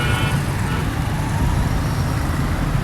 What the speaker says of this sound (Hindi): यहाँ ट्रैफिक रवा है, काफ़ी सारे ट्रैफिक जा रहे।